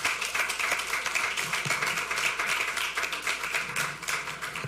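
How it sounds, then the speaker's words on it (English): Audience applause at a school district superintendent's report meeting: dense, steady clapping from a room of people, continuous and fairly loud throughout, tapering slightly at the end. "yeah, you can applaud that."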